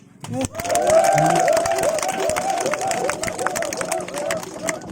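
Crowd at a regional government meeting in Pegunungan Bintang breaking into applause and cheering, a loud mass of clapping and voices that swells after a brief pause and holds.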